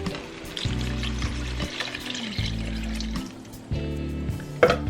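Water pours into a cooking pot on a kitchen stove, a steady close splash under background music, ending in a brief clink.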